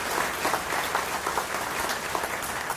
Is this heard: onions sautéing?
no